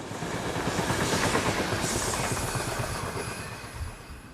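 Electric locomotive 11227 hauling the southbound EC91 express from Bruchsal to Milano near Einigen, a steady loud rumble and rail roar that swells and then slowly fades as the train passes.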